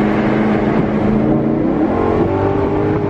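A Maserati sports car engine revs and accelerates, its loud rising drone close and continuous throughout.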